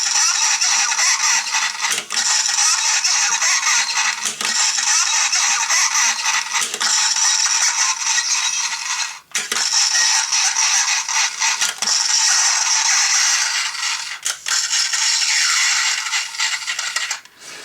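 Vintage Star Wars Imperial Troop Transport toy playing its electronic sound effects, a string of noisy, crackly bursts of several seconds each, separated by button clicks and brief gaps, close and with no talk.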